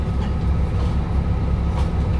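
A DB special train rolls through the Nuremberg marshalling yard, a steady loud rumble of wheels and running gear with low droning engine noise throughout, no voices.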